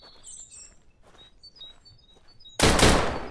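A short burst of loud, close gunfire erupts in the video game Deadside after quieter ambient chirps and distant sounds.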